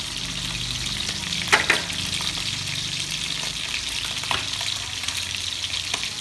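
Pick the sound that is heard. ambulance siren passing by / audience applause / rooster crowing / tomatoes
tomatoes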